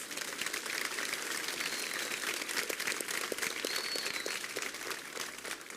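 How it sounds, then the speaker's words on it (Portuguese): Applause from a church congregation at a baptism service, a steady wash of many hands clapping at moderate level for several seconds. "Dá uma salva de palmas."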